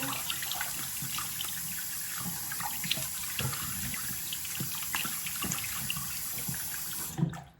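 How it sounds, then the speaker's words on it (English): Steady running warm tap water splashing into a sink, with irregular splashes and gurgles as hands scoop and rinse a face, close by and continuous until it stops at the end. "I'm just gonna rinse this off using warm water"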